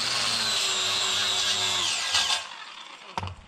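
An angle grinder fitted with a coral grinding disc strips paint and rust from metal, whining loud and close, then spinning down after about two seconds, followed by a short clunk.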